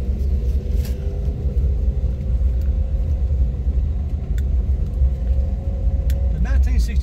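A 1962 Lancer car on its original 1962 tires rolls along a road at low speed, its engine a steady close rumble for the whole stretch, with the faint rise of a revving engine near the end.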